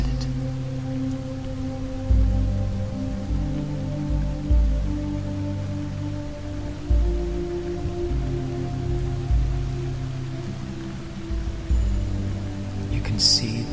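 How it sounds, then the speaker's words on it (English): Steady rain pours down outside a large canopy, a soft broadband hiss running throughout beneath a low sustained musical drone. "watching the rain pour down outside it."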